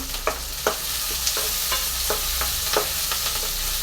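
Okra (ladies finger) sautéed in a pan for a tamarind curd curry, with a steady close sizzle and repeated sharp scraping stirs roughly every half second.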